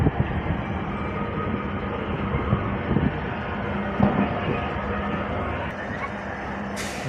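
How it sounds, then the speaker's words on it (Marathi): Akola–Akot passenger train pulling out of Akola station, a steady rumble of wheels and rail noise running throughout, close and continuous, with faint clunks and a brief hiss near the end. "पाहू शकता मित्रांनो अकोला स्टेशनवरून डिपार्चर झाला आहे आपला अकोट रेल्वे"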